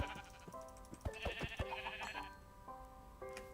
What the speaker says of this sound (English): so I found so many sheep